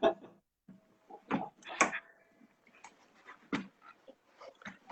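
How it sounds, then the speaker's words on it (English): Indoors, a dog gives soft, short whimpers and small vocal sounds in irregular bursts, with quiet household movement noises between them. "Just gonna check on the dog."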